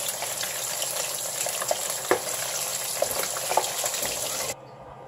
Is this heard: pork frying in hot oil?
yes